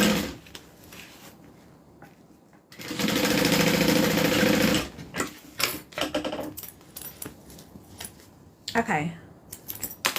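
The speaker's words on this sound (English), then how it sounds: "Make sure I don't sew over my zipper." A sewing machine stitches a crossbody bag near the zipper, running in a loud steady burst of about two seconds amid quieter handling clicks and fabric rustle, with a person speaking around it.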